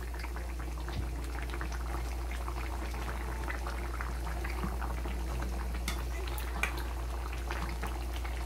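Beef simmering in a pot of water, a steady low bubbling boil with faint pops and crackles throughout and no talking over it.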